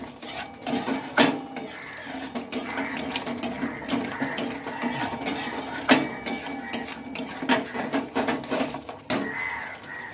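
Spice paste for vegetarian chickpea ghugni is stir-fried in oil in a pan, making repeated scraping and clinking from the spatula in an irregular rhythm, close by with no talking.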